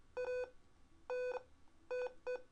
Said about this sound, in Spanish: Después de los 38 grados se enciende el LED rojo y el zumbador se activa.